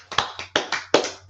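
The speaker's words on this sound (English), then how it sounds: "Let's clap it up for all the sisters." Hand claps for the sisters at a gathering, heard as about seven sharp, separate claps in a loose, uneven rhythm, fairly close with no talking over them.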